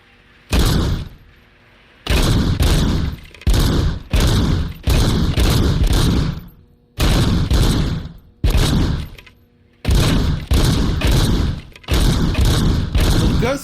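Loud, close bursts of gunfire from the RoboCop Rogue City video game, a series of repeated volleys and heavy thuds separated by short pauses, with no talking over them.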